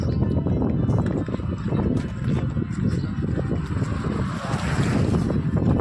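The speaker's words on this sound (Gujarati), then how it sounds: "પવન શરૂ થઈ ગયો છે." Strong wind roars continuously, buffeting the microphone with a dense, rumbling rush that never lets up.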